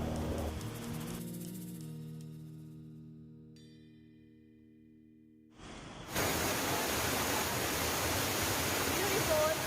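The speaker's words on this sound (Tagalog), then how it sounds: "Ito tiny waterfall dito sa Hong Kong Conservatory." A tiny waterfall at the Hong Kong Conservatory gives a steady, broad rush of falling water. It comes in after a soft tonal passage fades out in the opening seconds.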